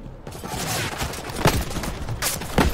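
Machine gun fire in World War Z: Aftermath, several loud bursts of rapid shots cracking out over a dense layer of background battle noise.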